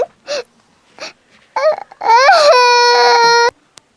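Children crying loudly in overlapping wails, with short sobbing bursts first, then a sustained high-pitched shriek that stops abruptly.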